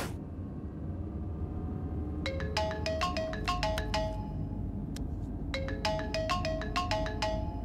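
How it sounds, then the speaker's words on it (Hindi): A melodic phone ringtone plays twice in bursts of rapid chiming notes over a low background hum, with a short pause between rounds. "ये कमलनाथ क्यों फोन कर रहा है?"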